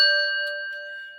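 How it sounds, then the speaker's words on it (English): A small bell is rung once, a clear ringing ding with steady overtones that slowly decays, alone and close. "I got to ring the bell"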